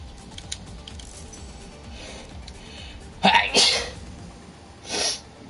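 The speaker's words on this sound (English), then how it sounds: "I feel like I'm gonna sneeze." A person sneezes during a Wreckfest gaming session: two sharp, close bursts in quick succession, then a softer third burst about a second and a half later, over a low steady background.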